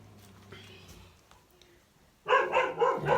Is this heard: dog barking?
yes